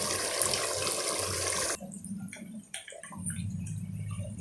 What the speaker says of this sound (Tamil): தண்ணி ஊற்ற போகிறேன்.